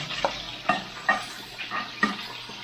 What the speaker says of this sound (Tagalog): dito sa kabila, magigisa na tayo ng ating pampa-aromatic para sa ating sauce naman